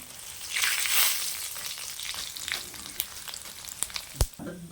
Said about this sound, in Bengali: এবার এই তেলেই আমি ফোড়ন দেব। এর মধ্যে তেজপাতা দিয়ে দিলাম, কয়েকটা গোটা শুকনো লঙ্কা দিয়ে দিলাম